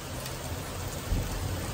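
Heavy rain pours down steadily at a farmers' market, a dense close hiss of drops with a low rumble underneath and no talking.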